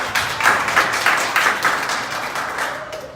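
A bootcamp audience gives a short round of applause: rhythmic, fairly close clapping with evenly spaced surges that fade toward the end, and a voice starts to come in at the close.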